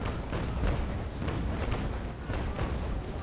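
A sailing warship's cannon broadside in Naval Action rumbles through a naval battle in a series of heavy booms, several sharp reports rolling together over about three seconds, moderately loud with no voices.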